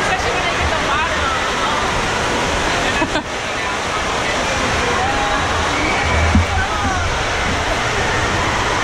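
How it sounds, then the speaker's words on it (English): Spa water jets at Paradise Spa Dogo in Korea, a loud, steady rushing and bubbling of water close by that fills the whole stretch, with faint voices beneath. "Especially when I get the water on."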